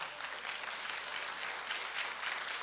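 Church congregation applauding together in a worship service, a steady, dense wash of clapping filling the space for the whole stretch at moderate distance, with no voices standing out.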